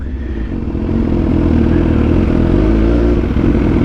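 A loud BMW S1000XR motorcycle engine drones steadily throughout, rumbling low with a rising note as it rides, no talking.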